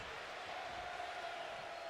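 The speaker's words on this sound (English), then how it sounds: "The crowd is still chanting, whoa." Crowd chanting during a wrestling match in the video game WWE 2K25: a steady, distant roar of arena voices with a faint sustained tone running through it, low in level and unbroken.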